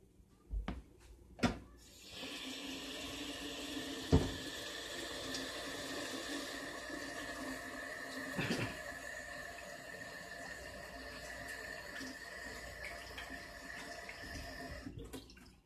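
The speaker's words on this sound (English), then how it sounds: "Let me go wash my hands." A kitchen sink tap runs steadily for about thirteen seconds, a continuous close splash of water on hands with a few sharper knocks and drips, no talking.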